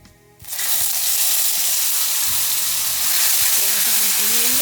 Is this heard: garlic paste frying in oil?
yes